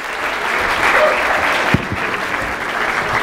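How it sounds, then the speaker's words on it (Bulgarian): An audience at a lightning talks event bursts into steady applause, a dense wash of clapping that holds at an even level for a few seconds without letting up. "Аплодисменти!"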